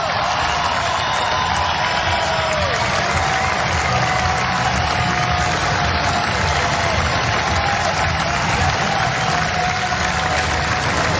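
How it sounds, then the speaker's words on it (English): A college baseball crowd at an NCAA ACC Tournament game between Miami and North Carolina applauds pitcher Austin Love as he leaves, a steady, distant-sounding wash of clapping and crowd noise throughout. "And the applause for Austin Love"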